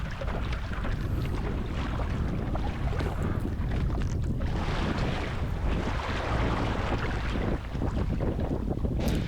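Wind gusting at the beach at Long Beach Belmont Shore during a kitesurfing session, a continuous loud rushing buffet across the microphone with surf noise beneath and no voices.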